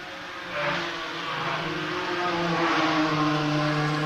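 BMW racing cars at a Classic Sports Car Club race at Castle Combe circuit, engines roaring steadily and building in pitch as they pass, loud and sustained with no talk.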